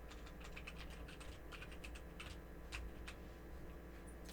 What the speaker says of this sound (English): I'm typing fucking comments back to these fuckers